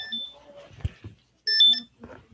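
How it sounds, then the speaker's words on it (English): An electronic device beeps in a short burst of bright, steady tones at close range, coming in between pauses in a man's speech. "I don't know why it has to beep now,"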